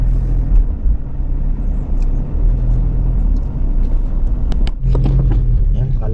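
Heavy road traffic in a two-lane jam, with a steady low rumble of idling and creeping cars, occasional horn-like tones and brief clatter, and a voice speaking over the noise at moments.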